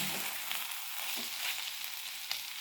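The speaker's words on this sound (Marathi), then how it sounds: "दोन दोन मिनटांनी भाजी अशी हलवून घ्यायची जेणेकरून ती खाली लागणार नाही" Mixed vegetables simmering with a little water in a pan on low gas, a steady close sizzle broken by occasional soft scrapes and knocks as the vegetables are stirred.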